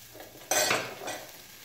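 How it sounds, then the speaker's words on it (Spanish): Onion and garlic dropped into hot oil in a pot, a sudden loud sizzle that swells and then settles into a softer steady frying hiss, close by, no speech. "Y aquí pongo la cebolla y los ajos."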